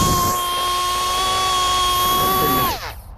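A Rockwell 50,000 RPM air Dremel runs close by with a loud, steady high-pitched whine and a hiss of air. It winds down abruptly at the end, and no one speaks.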